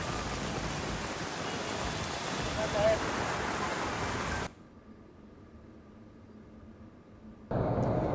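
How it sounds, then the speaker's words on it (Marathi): Heavy rain falling during a storm with lightning and strong wind, a loud dense roar that cuts to near silence midway and then returns abruptly. "अगदी विजांसह जोरदार वाऱ्यासह इथे पाऊस झालेला आहे।"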